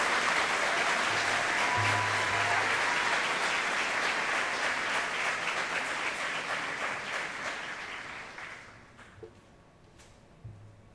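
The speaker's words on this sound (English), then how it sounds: "Would you please give a round of applause to the Business and Marketing class of" A large crowd applauds the business and marketing class at a senior recognition graduation ceremony, sustained dense clapping that slowly tapers off toward the end, with faint murmurs beneath.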